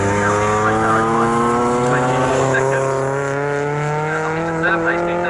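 Historic 1960s racing cars at Snetterton, a Lotus Elan S2 leading a Triumph, give a loud, steady engine drone with clear harmonic whine as they lap the circuit, under race commentary.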